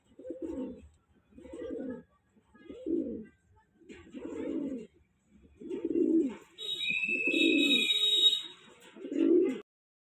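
A pair of Punjabi pigeons coos in repeated, evenly spaced throaty bouts, close and clear, with a brief high electronic tone sounding over them near the end.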